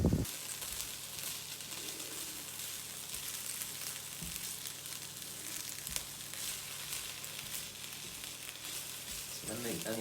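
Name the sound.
onion frying in a pan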